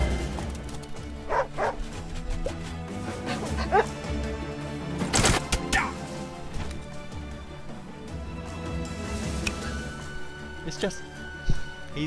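Dog barks and yips from the video game Wargroove, several short bursts scattered among busy game music and effects, fairly loud and close in the mix.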